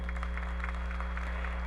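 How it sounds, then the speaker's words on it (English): A conference audience at a digital business talk gives a brief round of clapping, fairly faint over a steady low electrical hum. "give Len a round of applause"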